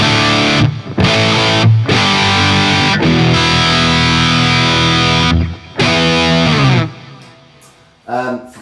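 A Japanese-made EVH Wolfgang Special guitar through a Peavey 5150 amp rings out loud and heavily distorted, with sustained chords and short breaks between phrases, fading to choppy notes at the end, with no talk.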